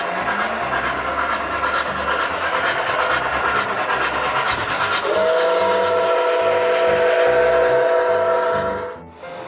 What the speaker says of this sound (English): We're now across town at the San Diego Model Railroad Museum.